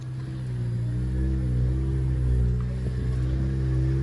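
A Jeep Gladiator and a Toyota Tacoma climb a steep, freshly maintained dirt road in 4 low, giving a steady low engine rumble with a faint harmonic drone that swells slightly midway, with no talk.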